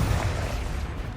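Confringo fire-blast spell cast in the Hogwarts Legacy wizarding game, a dense low booming rumble of explosion that holds steady and loud for a second with no voices.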